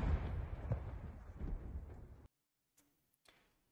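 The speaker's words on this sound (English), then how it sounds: "There's gunfire and shelling going on in the background" Gunfire and artillery shelling from a war zone in Ukraine rumble as a dense, loud background roar for about two seconds, then cut to near silence broken by a few faint, distant thuds.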